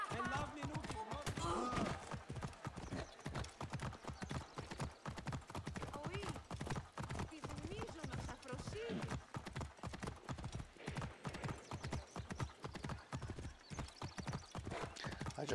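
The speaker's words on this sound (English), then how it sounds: "I just ran right through a horse." Rapid, steady horse hooves clip-clopping at a gallop in Assassin's Creed Origins, loud and close, with brief neighs and someone talking over the hoofbeats.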